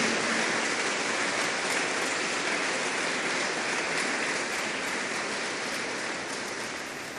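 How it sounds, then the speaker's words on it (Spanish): A church congregation claps for the Lord in dense, sustained applause that fills the room evenly and tapers slightly at the end. "Si usted lo cree, dele palmas al Señor."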